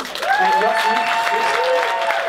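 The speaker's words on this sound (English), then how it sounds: "Please, a big applause for the Yossi mode." An audience bursts into sustained applause, a dense wash of clapping with some cheering, while someone speaks over it.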